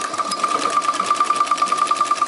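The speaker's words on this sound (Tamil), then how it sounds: "நீங்கள் தைக்க ஆரம்பிச்சுருங்க." A sewing machine stitching cloth in a steady, rapid mechanical whir with an even pulsing rhythm, close and loud, running alone without pause.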